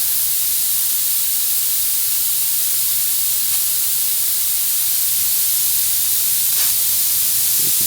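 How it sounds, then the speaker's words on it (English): Steady, loud hiss of propane gas escaping from the valve of a Mr Heater Fuel Keg propane tank, a continuous broadband rush with no talk over it. "This is just the gas coming out, and it's being replaced by the liquid."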